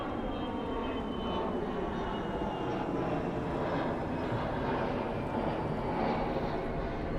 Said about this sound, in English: Looks like a Gulf Stream taking off of Suffolk County Airport